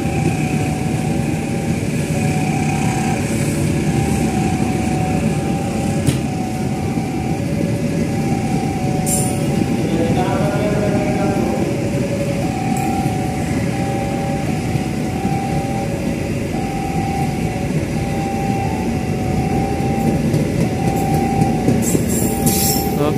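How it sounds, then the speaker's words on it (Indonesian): A Jayakarta passenger train departs a large station on the Pasar Senen to Surabaya Gubeng line, with a steady, loud rumble of rolling wagons, squealing wheels and a faint sustained horn-like tone, and no talking. "Oke, guys, Jayakarta diberangkatkan."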